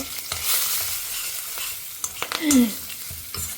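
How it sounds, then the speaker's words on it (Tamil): Mustard seeds splutter in hot oil, sizzling steadily with scattered small pops and crackles, a stirring scrape partway through; no one speaks. "இப்போ கடுகு பொரிய ஆரம்பிக்கிறது இல்லையா"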